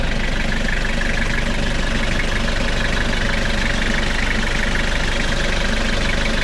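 A rebuilt Toyota Hilux engine idles steadily and loudly close by, a continuous even rumble with no talk over it.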